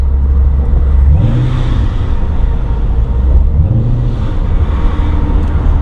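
A modified car engine fitted with 60-pound injectors blips the throttle on downshifts. Two quick rev rises sit over a low, steady engine rumble, heard close from inside the car with no talking.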